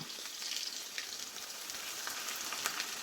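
Fenugreek seeds crackling with ginger and garlic frying in hot oil, a steady close sizzle dotted with small pops and crackles throughout.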